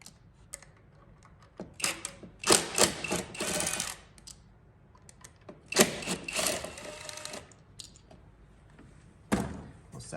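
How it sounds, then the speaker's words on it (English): An impact wrench loosening the ignition coil pack bolts on a Toyota Prius, with several short bursts of rattling hammering, close and fairly loud, separated by quiet pauses. "Then we're gonna take our impact and loosen these up."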